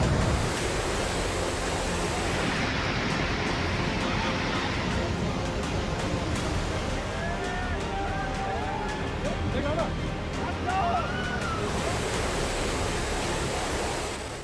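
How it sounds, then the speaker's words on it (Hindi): A flash flood torrent rushes down the hills of Doda in Jammu after a cloudburst, a loud, continuous, broadband roar of churning water that runs through the whole stretch while voices call out over it. "डोडा में बादल फटने के बाद जब पहाड़ी से सैलाब की प्रचंड धारा तबाही की शक्ल में आगे"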